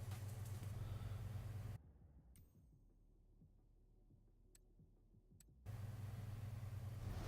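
A classic American Hudson Hornet, an old NASCAR ride, idles with a loud, steady, low engine drone in Forza Horizon 4. The drone drops away for a few seconds in the middle, then returns just as strong.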